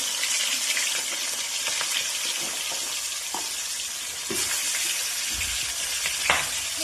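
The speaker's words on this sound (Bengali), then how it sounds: "মাছগুলো ভাজা হোক" Fish frying in hot oil in a wok, a steady loud sizzle throughout with occasional crackles and stirring clatter, no talk.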